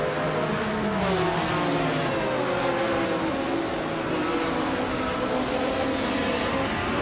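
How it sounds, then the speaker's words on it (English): A 1982 Lancia LC1 and other vintage race cars roar around Interlagos in a racing game, a continuous layered engine drone with shifting pitch as cars rev and pass, loud and steady. "the race has just kicked off at Interlagos Vintage, and Gina Jones is blazing the trail on pole in a classic 1982 Lancia LC 141"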